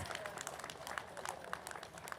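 An audience at a spiritual gathering at the Guntur pyramid claps together in a dense, even patter of applause, moderately loud and steady throughout.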